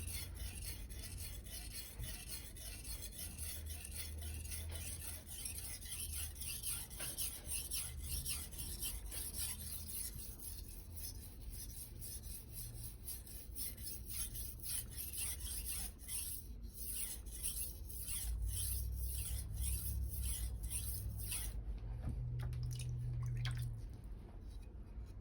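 A steel knife blade rasps and rubs rhythmically across a wet Naniwa 1000/3000 grit combination whetstone, steady close strokes with faint watery drips, no talking.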